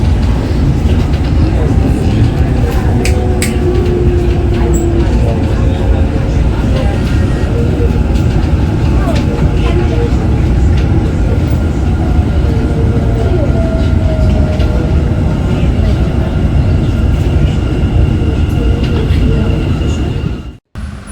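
A Dubai Metro train runs between stations with a loud, continuous rumble and rattle of wheels on track, faint squeals and cabin noise, cutting off abruptly at the end.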